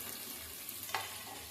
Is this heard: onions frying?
yes